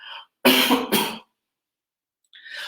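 A man coughing twice in quick succession during a live broadcast, loud and close, with brief bits of his talking just before and after.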